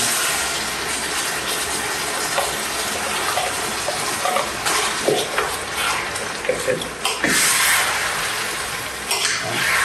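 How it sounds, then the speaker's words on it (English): Steady, dense sizzling and bubbling of tomato sauce in a pan, with soft pops and gurgles rising and falling throughout, close and continuous. "This is what you want to hear. The bubbling."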